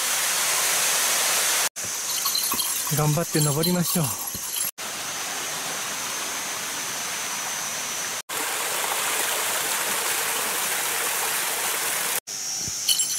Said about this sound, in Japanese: だんだんになっている見事な滝です。